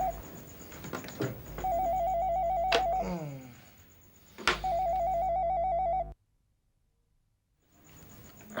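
A telephone ringtone rings in repeated electronic trilling bursts with a short pause of silence between rings, close and clear over faint background music, no talk.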